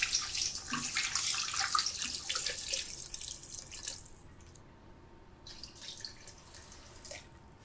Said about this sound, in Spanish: Vertemos 2 litros de agua y los jugos del horneado con el vino.